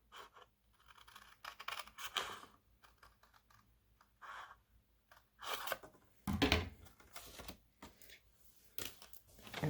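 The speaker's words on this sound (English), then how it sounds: "it is easier if I just take scissors and cut right on" Scissors cut along the fold line of a folded Stampin' Up barn door greeting card in bursts of close, crisp snips and paper rasps, with short pauses between the cuts and no talking.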